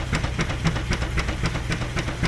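Steam traction engine running, its steady chuffing beats repeating at a quick, even rhythm over a constant low mechanical rumble and hiss, close and continuous.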